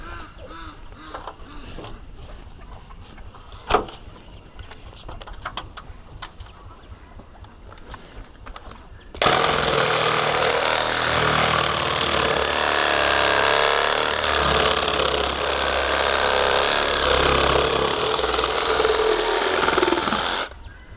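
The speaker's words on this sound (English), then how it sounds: "try to chop some of these off, all of them off, I guess, until I run out of batteries" A battery power tool cuts through 4x4 wooden posts: quiet handling clicks and rustles give way to a sudden loud, steady grinding whine that runs unbroken for about twelve seconds.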